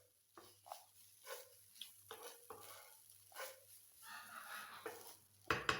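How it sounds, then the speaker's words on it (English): Meat pie filling thickened with corn flour being stirred in a pot, with soft scraping strokes repeating every second or so over a low hum and a faint sizzle, ending in a louder clatter. "then I stir all together and cook for about additional 1 minute or two is okay"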